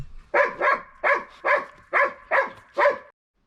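A Red Nose Pitbull puppy gives seven quick, high yapping barks in a steady rhythm, close and fairly loud, then falls silent.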